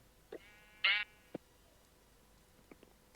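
A sheep in a block-building video game gives one short, faint bleat, surrounded by a few soft clicks over a quiet background.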